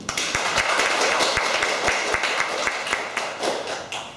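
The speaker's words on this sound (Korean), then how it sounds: "박수 한번 쳐주세요." An audience clapping in an auditorium, dense applause with sharp individual claps, loud and sustained for a few seconds before tapering off.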